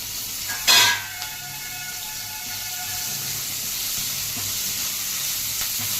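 Ginger, garlic and green chillies frying in oil in a kadai for soya Manchurian, a brief loud sizzle as they hit the pan, then a soft continuous hiss of frying.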